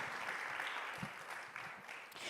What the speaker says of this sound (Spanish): Si puede darle sus palmas al Rey, désela con toda libertad.